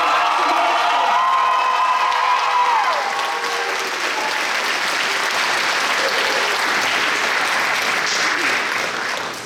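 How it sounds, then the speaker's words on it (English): A crowd at a college culture night dance showcase gives a sustained round of loud applause with cheers and whoops, strongest early and then settling into steady clapping before it cuts off. "they would love it if you gave them another round of applause"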